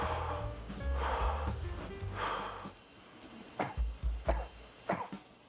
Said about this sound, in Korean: 허프 기법과 이 짧은 기침을 연결해서